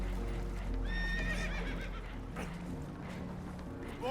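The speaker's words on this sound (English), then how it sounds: "Horses are spooked, and we're taking on water." Spooked horses in a video game, aboard a boat taking on water: several shrill whinnies and neighs with hoof clatter over a steady low rumble, fairly distant.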